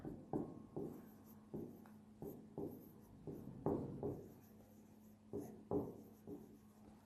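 Chalk or pen strokes on a board during a physics lecture on rectilinear motion, a series of quiet scratchy taps and short rubbing strokes in an uneven rhythm, faint and close, with no voice over them.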